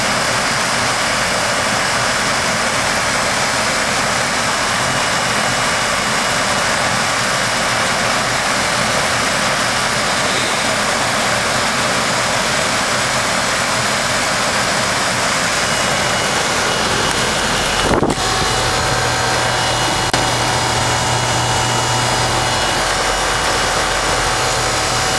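A 2004 Carrier 3-ton heat pump runs steadily outdoors before its defrost cycle, a loud continuous fan and compressor drone that shifts with a brief click and a change in tone near the end.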